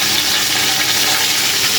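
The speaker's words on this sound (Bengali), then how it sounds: "একটু পানি দিব যাতে পেঁয়াজটা পুড়ে না যায়" Water splashes into a wok of oil and nearly fried onions, a short steady hissing sizzle and gush that stays loud and uniform with no voices.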